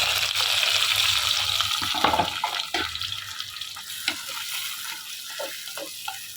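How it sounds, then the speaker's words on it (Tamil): Tomato, onion and green chilli sautéing in a hot pan, a fading sizzle with several sharp stirring scrapes and knocks against the pan, no talking. "இப்போ இது கூட தக்காளி, வெங்காயம், பச்சை மிளகாய் போட்டு நல்லா சூடாகிடுச்சு, அதனால மொத்தமாக போட்டுடுறேன்."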